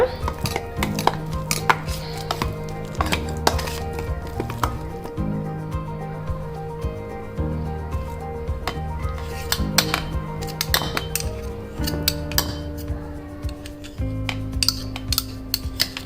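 A spoon scrapes and clinks repeatedly against a bowl as cooked baby food is mashed, steady close-up tapping over a faint background hum.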